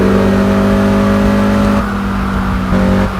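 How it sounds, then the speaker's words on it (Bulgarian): Car accelerating in the Test Drive Unlimited video game, a loud sustained engine drone that climbs in pitch and then shifts down twice as gears change, with no voices over it. "Набира скорост."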